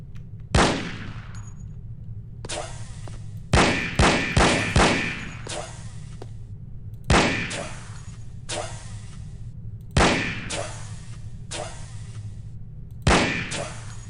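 Gunfire in the No One Lives Forever video game: short bursts of loud shots, several clusters of rapid rounds separated by pauses, over a steady low background hum.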